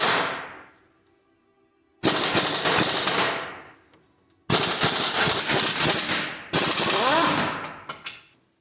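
A powered wrench works at a suspension linkage nut on a 1993 Saturn SL2, giving three loud, harsh rattling bursts of a couple of seconds each, separated by brief silences.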